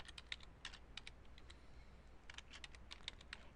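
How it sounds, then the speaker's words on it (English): Someone types on a computer keyboard in a quiet room: short bursts of light, close key clicks with brief pauses between them. "So now I'm going to start typing in my tips."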